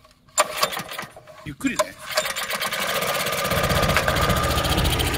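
A walk-behind garden tiller's small engine catches after repair, sputtering briefly then settling into a steady, close, rattling run that grows louder, with a voice speaking over the start.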